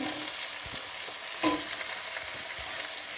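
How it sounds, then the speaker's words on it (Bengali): Onion and green chilies frying in oil in a pan for a spicy Bengali fish curry give a steady, close sizzle with light stirring scrapes and one brief louder clatter midway. "পেঁয়াজ দিয়ে দিচ্ছি কাঁচা লঙ্কা দিয়ে দিচ্ছি"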